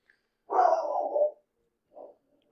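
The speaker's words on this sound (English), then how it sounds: "Oh, the pit bull's barking today." A pit bull barks somewhere at a distance: one drawn-out, muffled bark followed by a shorter, fainter one, both quiet against a silent background.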